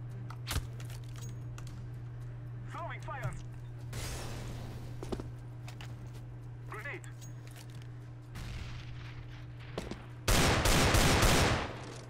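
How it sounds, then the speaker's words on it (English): Gunfire in Counter-Strike: Global Offensive comes as scattered sharp shots and short bursts, ending in a loud rapid volley, over a constant low hum with someone talking throughout. "Shooting at the wallbang spot."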